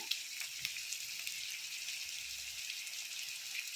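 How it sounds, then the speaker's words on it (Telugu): Quail meat frying in oil in a pan for a curry, a steady bright sizzle with soft crackles and pops, close and continuous, with no talk. "కొంచెం మాంసం కుక్ అయ్యిద్ది అన్నమాట నూనెలో, ఆయిల్లో."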